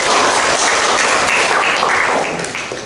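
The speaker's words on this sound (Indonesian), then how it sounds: "Boleh tepuk tangan." A classroom group at a high school claps loudly and briskly, a dense burst of many hands heard up close that slowly thins toward the end.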